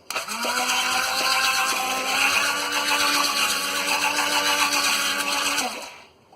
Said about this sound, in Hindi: और एक हैंड ब्लेंडर से हम इसे अच्छी तरह फेंट लेंगे।